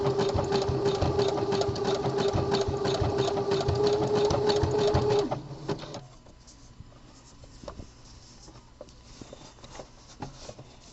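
A home sewing machine stitching a gusset panel on boxer briefs runs close and loud with a steady whirring hum for about five seconds, then stops, leaving faint handling clicks and rustles.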